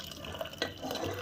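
Water from boiled mutton bones poured over vegetables in a cooking pot, a brief splashing pour with a small burst near the middle, fairly quiet and with no talking.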